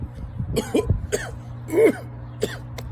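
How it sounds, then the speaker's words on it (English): A handful of short coughs and throat-clearing sounds from an adult with mild choking, spaced out over a few seconds, close by and fairly quiet. "so it generally looks like coughing"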